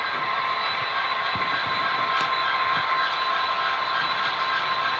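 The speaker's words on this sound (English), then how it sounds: "this SD75M, is the loudest locomotive I own" A steady, loud HO scale model SD75M locomotive sound decoder drone with a broad hiss fills the whole stretch, constant in level, with a brief metallic squeak near the middle.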